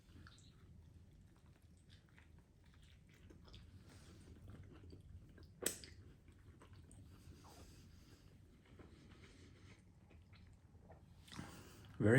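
Someone eats food dressed with light mayonnaise and lighter peri peri sauce: soft, close, irregular chewing with a couple of sharper clicks, quiet throughout.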